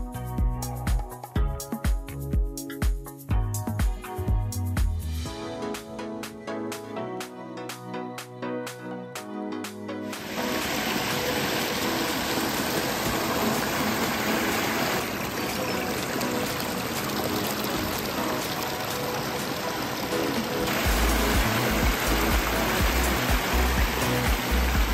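Water pours and splashes steadily in a recreation pond water feature, a dense continuous rush that follows an earlier stretch of rhythmic, choppy sound.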